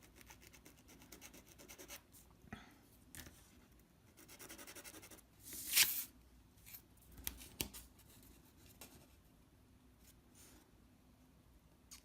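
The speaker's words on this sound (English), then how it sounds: "Go ahead and sand that down." A small balsa wood truss piece is sanded by hand, making soft, quiet rubbing and scraping strokes in uneven bursts, with a sharper, louder scrape near the middle. Nobody speaks.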